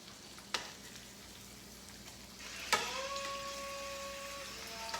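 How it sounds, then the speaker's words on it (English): Garlic fries in oil with a steady, soft sizzle and crackle, joined by a couple of sharp clicks and a brief pair of electronic tones partway through. "The garlic's turning nice and golden brown in there. You can smell it in the oil."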